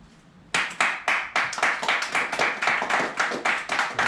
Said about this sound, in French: et pour ça, je nous applaudis.